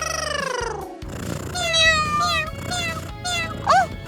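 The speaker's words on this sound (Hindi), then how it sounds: "जरा इस बिल्ली को तो देखो," A small cat meows several times in a rapid, plaintive series, close and fairly loud, with a sharper cry near the end, over soft rustling background sounds.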